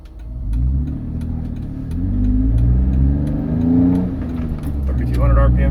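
A Jeep JK fitted with a Magnaflow stainless cat-back exhaust pulls away from a stop, its engine note rising steadily through the revs, dipping at a gear shift and climbing again, loud and close with a voice talking over it.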